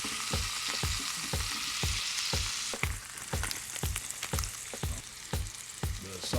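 Smash burger patty made from ground brisket trimmings sizzling on a griddle, a loud continuous fry with a regular series of sharp scraping knocks from a spatula, no talking.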